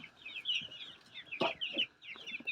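Chickens on a Tiger chicken poultry farm cluck repeatedly in quick, uneven bursts, close and clear. A louder squawk stands out in the middle, with quiet farm ambience underneath.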